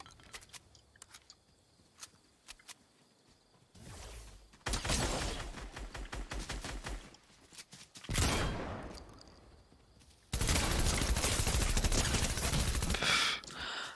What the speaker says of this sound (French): Pompe de merde, ça tire pas assez vite.